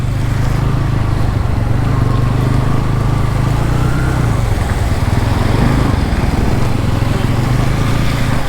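A Bajaj Pulsar N160 motorcycle rides through water in the rain, its engine humming steadily under a continuous wash of splashing and wind noise, close and loud throughout.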